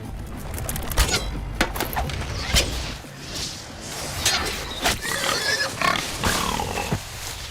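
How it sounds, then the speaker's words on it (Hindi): A wild boar grunting and squealing in bursts, mixed with horse-like snorts and whinnies, clattering movement and scattered thuds, loud and close throughout. "सुअर कितना बड़ा है?"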